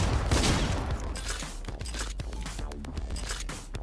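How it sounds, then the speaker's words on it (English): Drum shotgun blasting in a video game amid a chaotic firefight, dense overlapping gunfire and impacts, loud and continuous with a heavy burst near the start and rapid sharp cracks throughout. "Wanna meet my new drum shotgun?"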